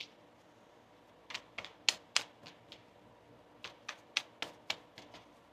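Tarot cards are shuffled by hand in quiet close-up, giving two short bursts of crisp clicks and snaps separated by a pause, with no talk.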